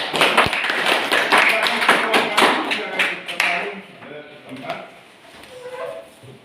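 A classroom group gets a burst of applause after presenting, with dense close clapping that thins out after a few seconds while voices carry on underneath.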